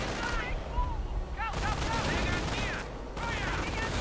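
Artillery shells and gunfire boom and crackle in a World War II-style real-time strategy game battle, dense explosive bursts with whistling incoming rounds, loud and continuous throughout.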